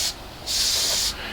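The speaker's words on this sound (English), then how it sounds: "You can see I'm spraying about 3 inches or so away from the body, just enough so where I can get that to flash off." Airbrush spraying Alclad metallic paint onto a plastic model car body from a few inches away, a steady close airy hiss in two bursts, one short and one longer sustained pass.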